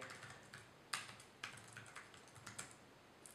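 Soft, quick typing on an ASUS Eee Pad Transformer keyboard dock, a steady patter of light clicky keystrokes with a few sharper taps, close by and with no voices.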